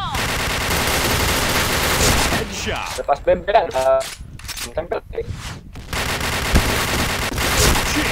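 Gunfire bursts from a shooting video game, loud and dense at the start and end with a choppier, gapped stretch in the middle, mixed with game effects and players talking over it.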